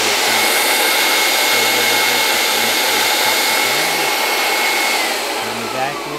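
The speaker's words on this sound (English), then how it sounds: "And just let the vacuum run for a second." Vacuum forming machine pump drawing heated plastic sheet down, a loud steady roar close by that eases slightly toward the end.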